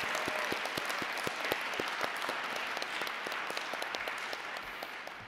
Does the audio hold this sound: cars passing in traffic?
no